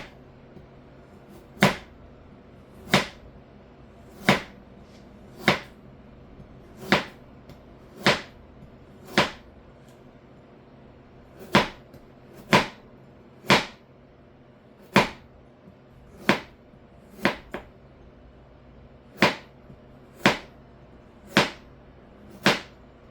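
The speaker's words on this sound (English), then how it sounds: "Now I'm gonna chop the ends off of this here like that. And then I'm just gonna do like thin slices." Knife chopping through food into thin slices for chicken chow mein, about sixteen crisp, evenly spaced cuts on a board, close and clear, with no talking.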